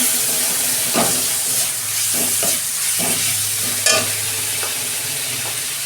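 Ginger garlic paste is sautéed with reddened fried onions in a pan for a bhola fish curry. A loud, steady sizzle runs throughout, with repeated scraping stirs cutting through it up close.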